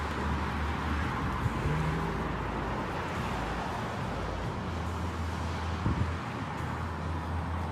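Steady traffic rumble and road noise fill the street outside City Hall, a continuous low wash of passing cars with wind buffeting the microphone and a brief thump near the end.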